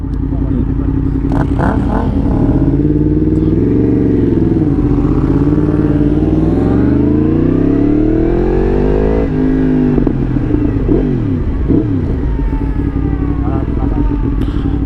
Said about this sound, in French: quand je suis en mode neutre, ma moto elle fait pas énormément de bruit